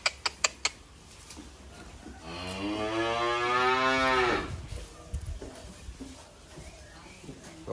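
Horned male Simmental bull at a cattle dealer's yard gives one long, deep moo lasting about two seconds, close and clear, after a few sharp knocks.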